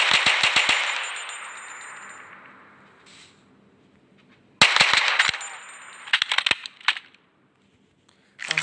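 Rapid bursts of automatic fire from an A3 gun in a Minecraft weapons mod: a loud rattling volley, a fading tail, then a second burst with scattered clanking shots before a final crack.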